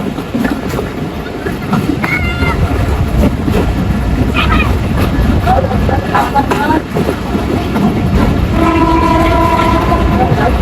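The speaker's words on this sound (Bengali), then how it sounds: "আমাদের ট্রেনটি শুরু হয়ে গেল, সামনেই মধুখালী রেলওয়ে স্টেশন।" The Bhatiapara Express rumbles along steadily toward Madhukhali railway station, loud and close, with wheel clatter throughout and sustained horn tones sounding near the end.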